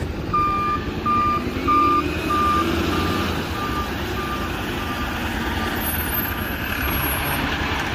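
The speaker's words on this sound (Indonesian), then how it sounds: "Wow, ada truk sampah." A toy garbage truck gives off steady, evenly spaced reversing beeps, fairly faint, over a continuous hum of engine-like noise that runs the whole time.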